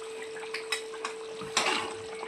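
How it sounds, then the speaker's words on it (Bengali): Lid lifted off a pot of goat meat cooked for half an hour: a few light metallic clinks, then a brief louder clatter and soft bubbling, close, over a steady background hum. "এই যে আধ ঘন্টা পর এই যে তুলছি ঢাকনা।"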